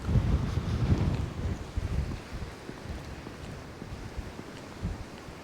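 Gusty wind on a hilly site at Prinknash Abbey buffets and rumbles against the microphone, strongest at the start and then settling into a steadier outdoor roar.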